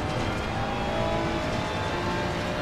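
Race car engine lapping Brands Hatch in Assetto Corsa Competizione, a steady loud drone of high revs held throughout, close and continuous with no voices.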